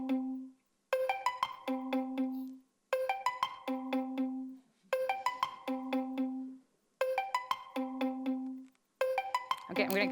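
A video-call ringtone plays during a user test: a bright, chiming melodic phrase that repeats about five times, each one ending in a held tone before a short gap, clear and close.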